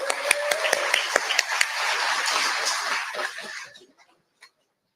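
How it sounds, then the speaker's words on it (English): Crowd at an outdoor protest rally clapping and cheering in a dense burst with a few sharp individual claps standing out, fading out after about four seconds into near silence. "You guys give yourself a round of applause too"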